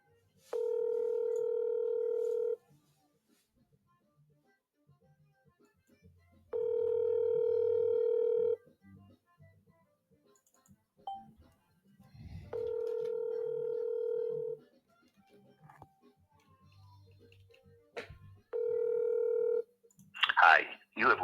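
Outgoing telephone call: four long, evenly spaced ringback tones sound alone with quiet gaps between them, followed by a brief burst of louder noise at the end.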